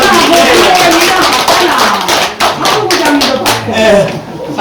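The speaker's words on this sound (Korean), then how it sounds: "저희들이 한번 이장님 안 돼도 회장님한테 박수 드려요." Clapping from a village gathering at a rural community care briefing in Sujeong-ri, Nakdong-myeon, Sangju, with a round of applause for the village chief and association head; dense, steady hand claps over chatter, loud and close throughout.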